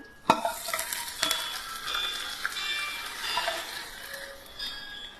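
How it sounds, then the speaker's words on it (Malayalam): A mustard seed tempering with curry leaves and dried red chillies hits a roasted-coconut elephant yam curry, giving a sharp burst of sizzling followed by a steady crackling hiss that slowly fades, with a few light clinks and no talking. "നമ്മൾ ഈ കടുക് താളിച്ചത് ഇതിലേക്ക് ഒഴിക്കുകയാണ്"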